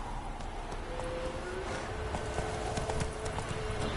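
The horse Roach gallops in a video game, its hoofbeats a fast, steady clip-clop under a dense, continuous wash of game ambience.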